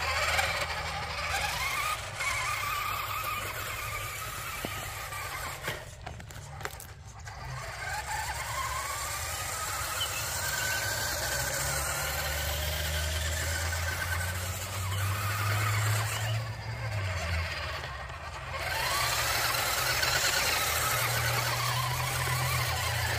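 A vintage Radio Shack 4x4 Off Roader toy truck drives in high gear, giving a continuous whining electric motor drone with rising and falling pitch that stays close throughout, with no talking.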